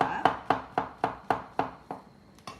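A knife chops leeks and mushrooms on a cutting board for a creamy pasta, about ten crisp, evenly spaced strokes, close and clear with no talking.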